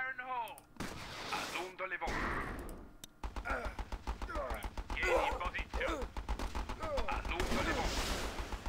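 Gunfire at a turret in the video game Battle Islands: Commanders comes as repeated bursts of shots and booming impacts, rapid and close, under a voice that talks over much of it.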